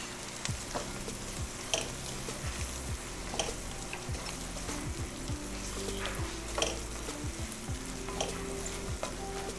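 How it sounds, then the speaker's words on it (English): Dried shrimps with green chili and coriander paste sautéing in a pan, a continuous crackling sizzle with faint occasional stirring, steady and unaccompanied by speech. "And I'm going to saute this until it gets nicely aromatic."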